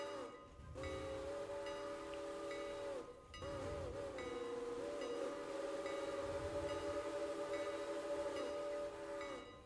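A steam locomotive whistle in the train simulation game Railroader sounds in long, loud, steady blasts, broken by two brief pauses, over a rumbling train.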